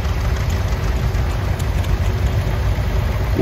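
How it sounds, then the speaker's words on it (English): An antique Oliver 2150 tractor with front wheel assist and a Hercules engine idles steadily and loudly nearby at an outdoor antique tractor and steam engine show, a continuous low rumble without pauses. "Now we got Larry Duda with an Oliver 2150 with a front wheel assist on it."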